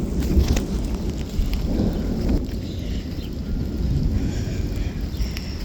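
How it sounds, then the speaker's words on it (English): Rain on a Nebraska sheep farm, heard as a low rumbling wash mixed with gusty wind buffeting the microphone, continuous and fairly loud throughout. "It is really raining."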